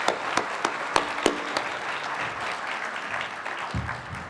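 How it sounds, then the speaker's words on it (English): Audience applause at a regional science and engineering fair awards ceremony, a moderate round of clapping with a few sharp, louder claps standing out near the start before it thins and fades. "Let's give one more round of applause."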